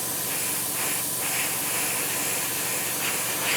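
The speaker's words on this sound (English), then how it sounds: "I think the compressor could be on the way out." Steady hiss of air from an airbrush driven by an ageing compressor while spraying a T-34/76 model Stalingrad diorama, continuous and fairly loud with slight pulsing, no talking.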